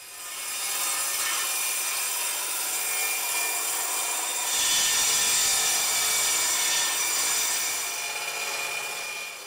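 Steady, rough rasping of sandpaper on wood in a South Styrian workshop where wind wheels are built, continuous and close for the whole stretch, growing slightly louder midway, with no talking.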